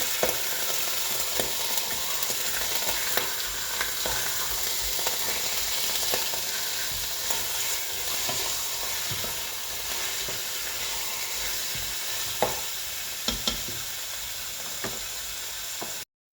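Meat sizzles and fries in a pot while being stirred, a steady close hiss with occasional scraping and clicks, alone without talk.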